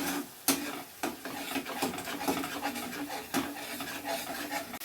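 Katla fish kalia masala with beaten yogurt being stirred and sautéed in a pan, giving soft scraping strokes over a faint sizzle, with sharper clatters of the spoon against the pan at irregular intervals.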